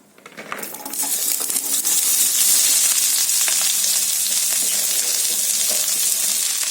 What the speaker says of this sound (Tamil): இப்போ நம்ம கட் பண்ணி வச்சிருக்க வெண்டைக்காவை இந்த எண்ணெயில சேர்த்துக்கலாம்